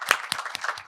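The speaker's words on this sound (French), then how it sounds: "Est-ce qu'on peut applaudir pour l'émission RH?" A small studio audience applauds a French TV talk show, giving a brief burst of separate claps at a loose, uneven rhythm.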